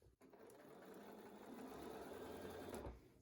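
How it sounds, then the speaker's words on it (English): A sewing machine stitches binding onto a quilt at a quarter-inch seam allowance, a quiet, steady, fast mechanical whir that starts after a brief pause and runs evenly, slightly swelling toward the end. "I stitch from the very edge at my 1/4 inch seam allowance all the way down"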